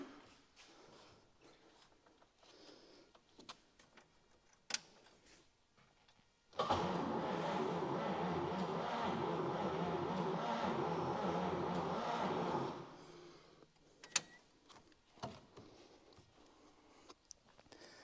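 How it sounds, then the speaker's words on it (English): A cold 1949 Chevy Fleetline engine with its spark plugs in cranks over slowly on the starter for about six seconds, a loud steady grinding churn that stops abruptly, with scattered clicks and quiet handling noises before and after. "here is a cold crank with the spark plugs in"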